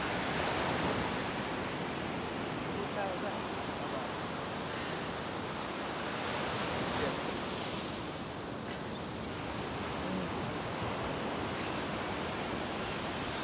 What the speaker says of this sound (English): now all the waves started coming